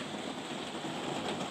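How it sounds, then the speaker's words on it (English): Steady, dense rain pours down throughout a rainstorm, a continuous broadband hiss with no voices. "So it's still raining, but it's really pretty."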